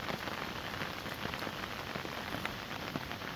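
Steady rain patters onto a wooden deck path winding through a forest on a barrier-free hillside trail, a dense, even hiss of drops close by that runs without a break.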